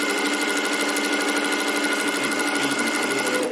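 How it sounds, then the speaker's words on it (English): A sewing machine running fast and steady while stitching circles on a table runner, its rapid needle chatter and motor hum continuous and close throughout. "some speed helps too when you're sewing like this"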